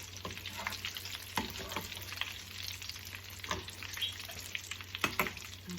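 Potato croquettes with an egg coating fry in oil while a strainer spoon moves them around, giving a steady sizzle broken by several sharp metallic scrapes and clinks, with no voices.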